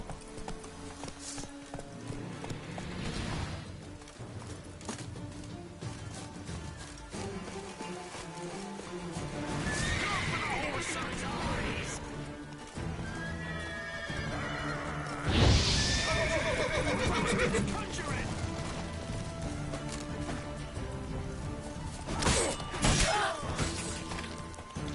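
Roach the horse in The Witcher 3 galloping with rhythmic hoofbeats and letting out several loud neighs and whinnies, mixed with game music and occasional crashing impacts.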